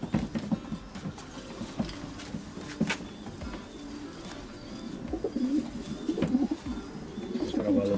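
Pigeons from a breeding loft of racing stock coo softly and repeatedly at moderate distance, with low rustling and background noise throughout and no speech.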